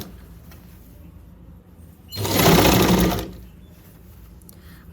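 A sewing machine makes one short burst of stitching on a deep neck suit sleeve, roughly a second of close, loud whirring set between quiet moments.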